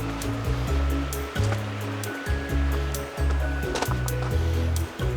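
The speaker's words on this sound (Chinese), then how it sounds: "你还一直听到那个流水声" Water babbles over stones in a rocky forest creek at Shanlinxi, Nantou, Taiwan, a constant nearby rush with rolling low surges that rise and fall every second or so; no one speaks.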